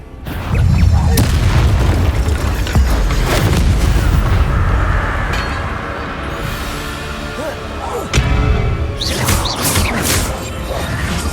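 Spell-casting combat in Hogwarts Legacy fills the scene with loud, dense magical blasts and booming explosions layered with whooshes, with a fresh burst of impacts near the end.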